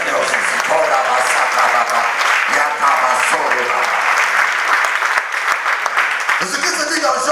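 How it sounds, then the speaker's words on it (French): Church congregation applauding during a French-language sermon, a dense and loud wash of clapping that carries on steadily with voices mixed in and briefly swells again near the end. "Applaudissez un peu le Seigneur Jésus"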